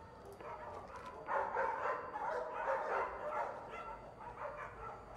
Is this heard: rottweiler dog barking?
yes